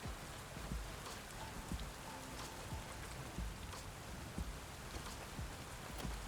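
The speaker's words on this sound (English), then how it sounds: "Oh, a nice cooling rain." Steady rain falls in the video game Satisfactory, a dense, even hiss of drops with occasional louder spatters, constant throughout and without talk.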